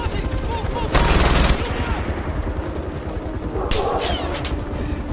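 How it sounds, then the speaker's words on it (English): Machine gun fire in Far Cry 4 during an outpost attack: one loud burst early, then a shorter, more distant rattle later, set against a steady game ambience. "We've got 9 grenades here, a big old machine gun."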